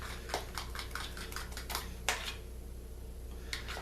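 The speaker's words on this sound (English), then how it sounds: "Mix up anything that's still stuck on the bottom of the bowl." A utensil scrapes and taps against a bowl while Cap'n Crunch berry pancake batter is mixed, making a quick run of faint clinks followed by a couple of later scrapes.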